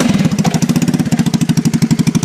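A small engine runs during carburetor tuning, held alive with the hand throttle, giving a loud, close, rapid chugging pulse with a steady rhythmic beat and no talk.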